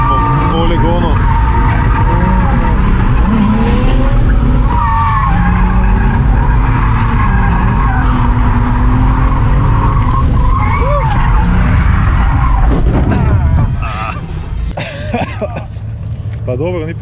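Car drifting around a wet drift track, tires skidding and squealing over a loud engine roar, with people talking throughout; the noise drops off near the end.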